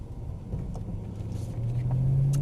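A BMW M3 E92 on a race circuit rumbles at low idle, then its engine note rises steadily and grows louder as the car pulls away.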